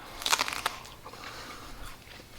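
Teeth bite into a raw ear of super sweet corn, giving a quick run of sharp, close crunches followed by quieter chewing.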